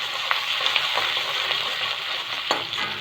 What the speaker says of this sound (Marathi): त्याच्यात अद्रक, लसूण, मिरची टाकायचे आपल्याला. असं फ्राय करायचं.